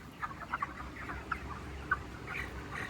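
Chickens on a village poultry farm, a flock clucking in short repeated bursts at moderate distance, several birds overlapping at a low steady level with no talk.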